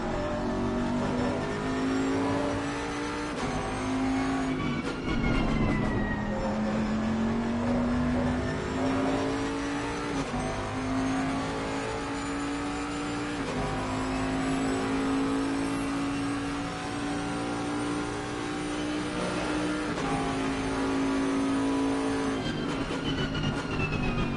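A GT3 race car engine in Assetto Corsa Competizione sim racing revs hard and continuously, climbing through the gears in repeated rising sweeps with brief drops at each shift, loud and steady throughout with no talk.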